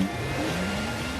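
A BMW 3 Series with an inline 6-cylinder engine accelerating, a smooth, rising engine note that sweeps upward over a second, fairly loud and with no voices.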